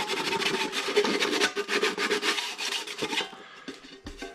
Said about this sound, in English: giving it a light sanding just to make sure that there's no, you know, burrs that are biting